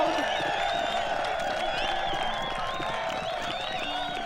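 A crowd cheers and shouts in Baldur's Gate: Enhanced Edition, Siege of Dragonspear, with a continuous mass of overlapping voices at moderate loudness.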